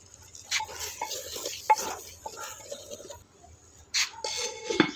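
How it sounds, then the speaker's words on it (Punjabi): Chicken pieces cook in hot tempering (tadka) oil, stirred with intermittent scraping and clinks of a utensil against the pan over a soft sizzle, with no talking. "ਉਹਦੇ ਵਿੱਚ ਆਪਾਂ ਜਿਹੜਾ ਚਿਕਨ ਆ ਉਹ ਐਡ ਕਰ ਦੇਣਾ ਵਾ ਫਿਰ ਇਸ ਚਿਕਨ ਨੂੰ ਤੜਕੇ ਦੇ ਵਿੱਚ 10 ਤੋਂ 15 ਮਿੰਟ ਤੱਕ ਪਕਾਵਾਂਗੇ"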